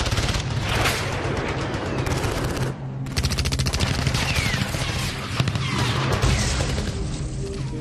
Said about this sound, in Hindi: ये देखिए अभी इस वक्त जो है शेलिंग शुरू फिर हो गई है।